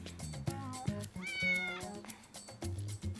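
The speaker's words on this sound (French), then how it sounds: "Pourquoi t'as pris mon chat?" A cat meows several times close by, rising and falling cries in a short run, with scuffling and thumps around them.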